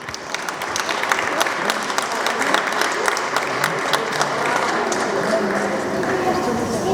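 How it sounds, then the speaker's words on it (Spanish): An audience at a storytelling event in a museum claps steadily and fairly loudly for a teacher, with voices heard over the applause. "Aplauso para la maestra Julieta Hernández."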